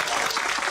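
A lively audience claps loudly and continuously during a religious gathering in Indonesia, dense hand claps filling the short stretch with no pause.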